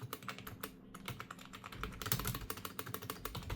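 Rapid, uneven clicking of fingers typing on a cheap, very quiet budget computer keyboard, soft close-up keystrokes running continuously with no voices.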